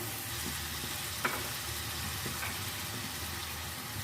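Spices of salt, red chilli and crushed red chilli sizzle in a pan, splashed with a little water for roasting, making a steady soft frying hiss with a couple of faint clinks of stirring.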